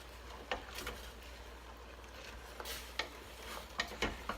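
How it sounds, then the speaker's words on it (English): Oatmeal mixture with tomatoes and garbanzo beans being stirred in a pot, quiet wet scraping and a few sharp clinks of the spoon against the pan over a low background hum, with no talk. "And we'll mix everything together."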